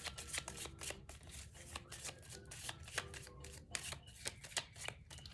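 Cards riffle and snap in quick irregular bursts, a close, crisp shuffling patter continuing throughout with no talking.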